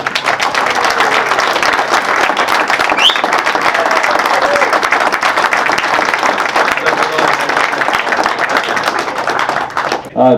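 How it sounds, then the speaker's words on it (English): Loud, sustained audience applause at the official opening of the Felixstowe Coast Patrol, a dense wash of many clapping hands filling the room steadily before it abruptly thins out at the very end. "Please give John a big round of applause."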